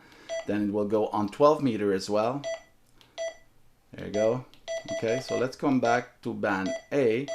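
Button beeps from a President Lincoln II 10/12 metre mobile radio, short thin electronic tones sounding while someone talks over them.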